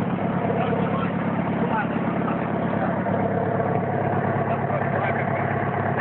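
A Chevrolet Opala's engine runs steadily at close range with a low, throaty exhaust note, holding an even rumble for the whole stretch while voices talk over it.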